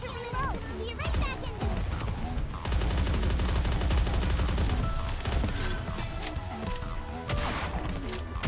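Rapid, dense bursts of gunfire in Genshin Impact combat, a fusillade of shots that runs steadily through the middle, layered with music and other game effects.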